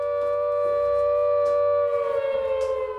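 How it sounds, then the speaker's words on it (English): An air raid siren wails in a Ukrainian war zone, a loud steady rising tone held throughout and wavering slightly toward the end, with no talk over it. "But the aircraft siren starts before we even ask our first question."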